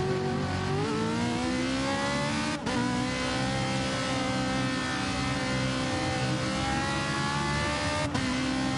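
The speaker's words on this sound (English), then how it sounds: "it'll be a mad dash now for every car to come out on the track then" Race cars pull out onto the Interlagos circuit for qualifying, with a Nissan and a Ferrari among them, their engines droning and revving loudly as they accelerate, broken by a couple of sharp shifts.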